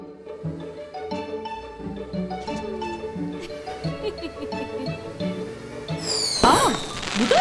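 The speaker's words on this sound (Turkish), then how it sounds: "Havai fişekler yüksek ses çıkarır." A cartoon fireworks burst crackles and bangs near the end, over busy cartoon music that plays throughout.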